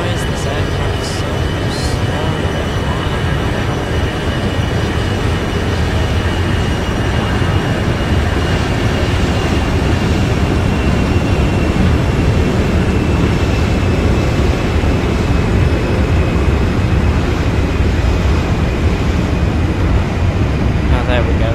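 An Airbus A320 with CFM56-5A engines taxis toward the runway in Flight Simulator X, a loud, unbroken engine drone and rumble that holds steady throughout.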